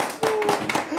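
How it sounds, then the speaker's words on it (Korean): A quick burst of several hand claps, close and fairly loud, with a bit of voice mixed in. "박수, 박수, 박수."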